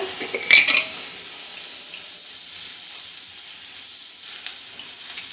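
Sprouted moong roasts in a pan, a soft continuous hiss with a few clattering stirs and scrapes near the start and light taps later on.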